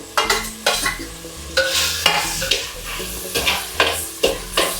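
Tomatoes and green chillies frying and being stirred in a pan, a loud sizzle broken by repeated scraping strokes and clinks of a spoon against the metal, with background music running underneath.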